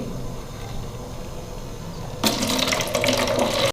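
Homemade almond sharbat poured into a jar, a steady close liquid stream that suddenly grows louder and brighter for its last second or so before stopping.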